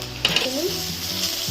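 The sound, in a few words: onions frying and being stirred in a pan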